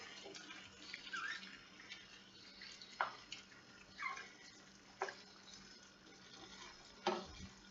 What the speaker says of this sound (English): I'm going to cover it with water.